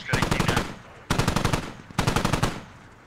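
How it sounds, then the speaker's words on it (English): Three short bursts of rapid automatic gunfire from strafing runs in the military shooter game Squad, each burst a quick string of sharp shots, clear and moderately loud. "Just doing strafing runs through there."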